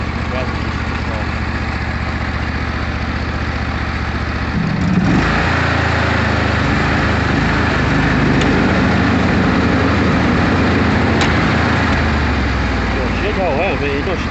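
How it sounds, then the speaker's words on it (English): A lawn mower cuts tall grass in a goat pasture, its engine droning loud and continuous close by with a slight shift in tone midway, and voices faintly mixed in. "So I mowed the other side down."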